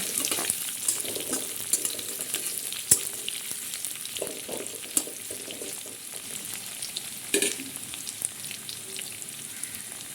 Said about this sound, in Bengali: এবার এর মধ্যে পেঁয়াজ কুচিটা দিয়ে দিলাম, একটু নেড়ে নেব।